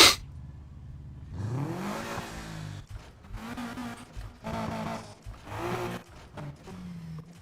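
Car engine in Need for Speed Heat that throttles up several times, loud and near, with each roar rising and then dropping back before the next push.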